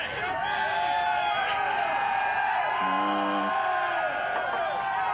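Crowd at an FCC Freedom Rally, a dense continuous roar of many voices cheering and whooping at steady loudness, with a brief shouted call rising above the noise midway.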